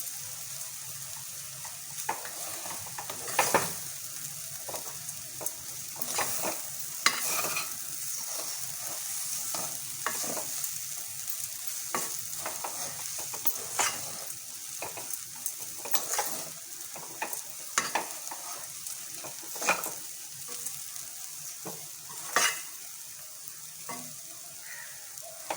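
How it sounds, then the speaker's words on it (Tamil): Plantain puttu being stirred in a pan at home, a steady soft sizzle under repeated scraping and stirring strokes that recur irregularly throughout, close by with no talking. "கொஞ்சம் கிளறும் போது கொஞ்சம் மெதுவாக கிளறணும்."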